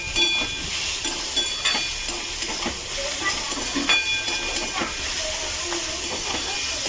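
Oats fry in a pan over low heat with a continuous hissing sizzle and light intermittent scrapes, while a voice speaks now and then.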